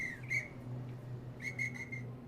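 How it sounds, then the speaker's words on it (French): A railway guard's shrill whistle blows twice at a station, a short blast followed by a longer trilled one, over a low steady hum in the background. "Tu entends l'agent qui siffle maintenant"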